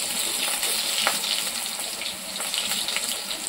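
Mutton goes into a pan of potatoes already fried red-brown, giving a loud, steady sizzling hiss that holds throughout with no voices.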